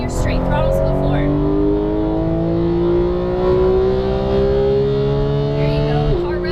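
A Porsche 911 GT3 on a Las Vegas racing track accelerates at full throttle, engine note climbing steadily and loudly in a smooth rising whine before a brief drop at a gear change, with talk from inside the car.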